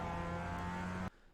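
A Mazda Miata's engine drones at a steady, buzzing pitch in the iRacing sim game, loud and alone for about a second, then cuts off abruptly to near silence.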